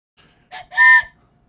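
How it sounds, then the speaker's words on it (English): A short whistle tone, a brief toot then a longer sustained blast, meant as a train whistle sound effect, clear and close against silence. "You need the train whistle."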